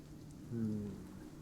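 Soft, steady rain ambience plays beneath a tabletop Dungeons & Dragons role-playing session, low and even throughout, with a brief humming swell in the middle.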